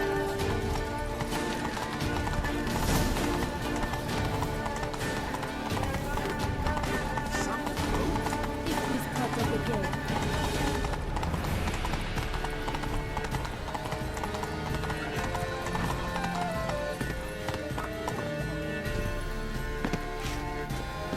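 A horse galloping in The Witcher 3: Blood and Wine, rapid, steady hoofbeats pounding without pause over a dense bed of game sound throughout.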